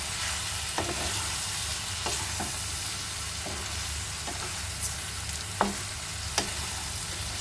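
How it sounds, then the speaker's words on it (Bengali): Spices and vegetables with dried lotia fish and whole garlic frying in a pan, a steady close sizzle with periodic scraping clicks of a spoon stirring, no voices. "তারপর সব মশলাগুলোকে সবজির সাথে খুব ভালোভাবে মিশিয়ে নেব।"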